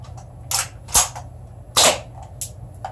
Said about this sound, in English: The gas just comes right out of the gun.